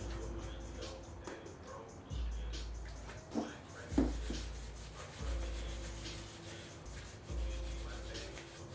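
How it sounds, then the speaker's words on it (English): Rags rub and wipe over faded plastic trim being cleaned with alcohol, a steady close scrubbing with periodic stronger strokes and a few brief knocks. "we're gonna wipe these down really, really good"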